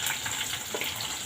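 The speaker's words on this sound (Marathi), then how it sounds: "आता कांदा आणि मिरच्या छान आपल्याला परतताय" Sliced onion and long-cut green chillies, with crushed garlic, sauté in a pan, giving a steady, close, even hiss of sizzling with no talking.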